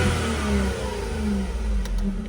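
A Suzuki Jimny engine revs steadily at a car yard in Osaka, a loud, continuous low drone with slight rises and falls in pitch, close by and with no talking.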